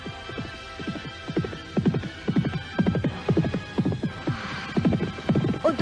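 Horses galloping away from a village in an Indonesian radio drama, with a steady rhythmic clip-clop of hooves and an occasional whinny, fairly close and loud, no talking over it.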